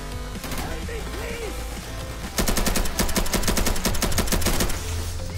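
Rapid bursts of automatic gunfire in the shooter game Insurgency, loud and close, with single shots early giving way to a dense stream of shots in the second half, other game sounds underneath.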